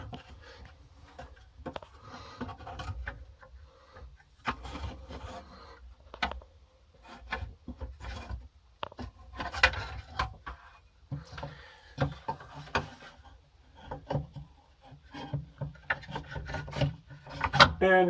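Soft scraping and rubbing clicks as a special tool tightens a PortWood fitting by Delta, irregular close handling noises at low volume with quiet pauses between them.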